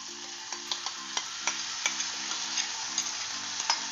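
Spice-coated small fish, salted and turmeric-rubbed, go into a pan of fried eggplant, giving a steady sizzle broken by frequent sharp ticks and taps of a utensil against the pan, close and regular.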